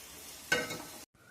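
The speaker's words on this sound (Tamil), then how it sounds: "வாழைக்காய் பொரிக்கிறா" Raw banana chips frying in a pan: a faint background sizzle that swells into a short burst of louder crackling and stirring, then cuts off abruptly.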